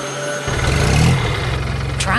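Yellow cartoon tractor engine on a farm, starting up and settling into a loud, throbbing, rumbling run close by, with a brief voice or effect near the end.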